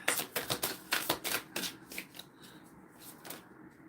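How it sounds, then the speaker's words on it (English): Long tarot cards being shuffled by hand: quick, crisp riffling bursts in a rapid rhythm, close and loud at first, then thinning into lighter scattered flicks. "These cards are long, so I have to shuffle these like this."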